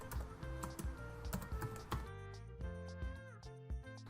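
Java code being typed on a computer keyboard: a steady run of light key clicks over several seconds, close by, over a sustained tonal background hum.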